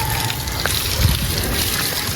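Water poured over an animal, likely a pet, as a steady broadband gush with a low rumble, running continuously and fairly loud at close range, with no talk.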